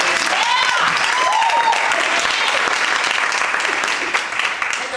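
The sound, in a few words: applause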